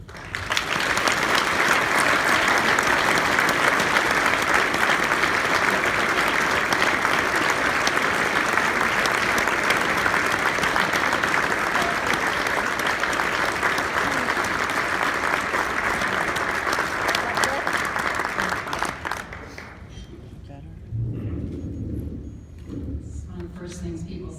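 Convention audience applauding to welcome Patty and Jacob Wetterling: loud, sustained clapping from a large crowd for nearly twenty seconds, then fading into quieter room sounds.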